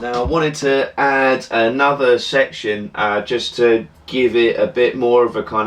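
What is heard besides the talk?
No everyday noise stands out behind the speech.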